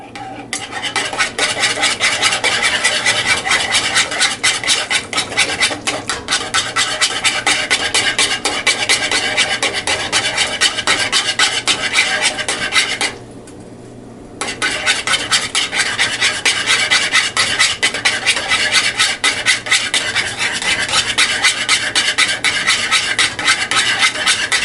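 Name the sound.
whisking in a pot for macaroni and cheese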